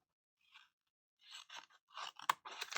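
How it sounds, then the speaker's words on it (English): Small scissors snip through paper mandala shapes in a quiet room, producing a few soft, close, crisp cuts that come in short clusters after a brief pause. "I'm going to grab my small pair of scissors"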